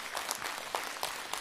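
Audience applause at a jazz concert as a military orchestra of a Black Sea Fleet coastal defence brigade comes on stage, a brief dense burst of clapping, loud and even.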